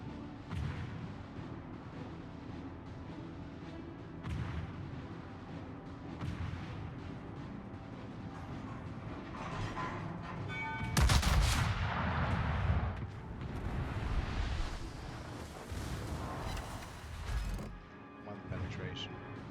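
Naval ship guns boom in World of Warships, heavy scattered salvos and impacts over a rumbling battle ambience, with someone talking over much of it.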